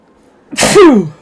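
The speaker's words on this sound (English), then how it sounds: "I have to sneeze." A single sharp sneeze bursts out close to the listener, a quick breathy explosion that trails off into a falling vocal tail, with near silence around it.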